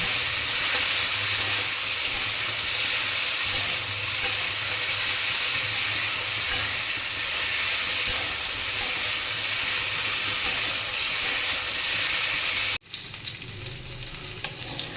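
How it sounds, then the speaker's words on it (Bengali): Cauliflower fries until browned in hot oil in a kadai with a constant, crackling sizzle close up, continuing steadily after a brief cut near the end. "ফুলকপিগুলো লাল করে ভেজে নেব"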